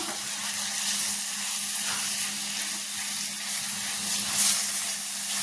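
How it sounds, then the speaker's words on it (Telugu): Minced mutton keema frying in hot oil in a pan, a continuous close sizzle and hiss that holds steady throughout with a brief surge near the end, no talking. "మంచిగా మటన్ కీమా ఫ్రై అయ్యేలాగా బాగా ఫ్రై చేసుకుందాం, మాడిపోకుండా"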